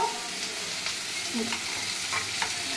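Puti fish go into a frying pan with a steady sizzle of hot oil, broken by a few soft stirring and scraping knocks, close and fairly quiet, with no talk.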